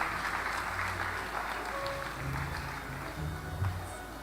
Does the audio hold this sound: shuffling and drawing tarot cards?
no